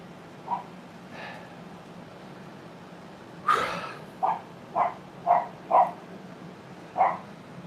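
A dog barks near a blacksmith's forge workshop: about seven short, separate barks at uneven intervals, moderately distant, over a low steady hum with no talking.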